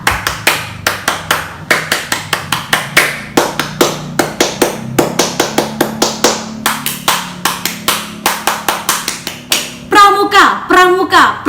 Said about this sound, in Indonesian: mari kita bersama-sama 3 kali tepuk pramuka terlebih dahulu agar kita selalu semangat